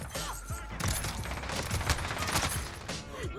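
MK2 carbine gunfire in Warzone, a dense fusillade of rapid shots and overlapping gunfire with other weapons, loud and continuous, with no talking.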